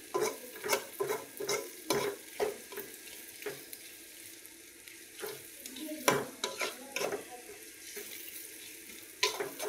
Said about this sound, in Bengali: কি সুন্দর পেঁয়াজগুলো আগে তেল আমরা ভেজে নিচ্ছি।